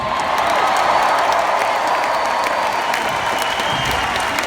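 A large seminar audience applauds and cheers steadily, a dense, loud wash of clapping with whoops rising throughout, no pause in the noise.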